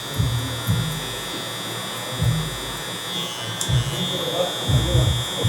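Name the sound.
electric hair clippers cutting a guideline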